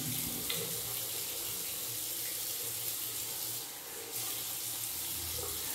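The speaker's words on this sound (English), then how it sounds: "cold water rinse." A bathroom tap runs steadily for a cold water rinse while shaving with a Merkur Futur double-edge safety razor, a constant close rushing hiss with no speech.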